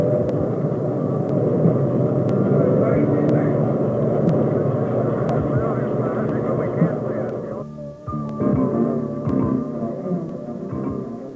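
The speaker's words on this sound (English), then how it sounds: "First successful launch of Atlas." A roaring, rumbling Atlas intercontinental ballistic missile launch dominates throughout, a sustained heavy low-pitched roar with a brief dip near the end, heard under someone narrating voice.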